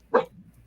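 A single short bark from a dog at home at night, alerting to something next door, sounds moderately close and alone in a quiet room.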